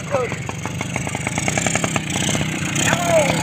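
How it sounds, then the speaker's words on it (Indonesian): Motorcycle engine running nearby, a steady mid-pitched drone with rhythmic pulsing, heard on an outing to gather feed for goats. "Motor pertama."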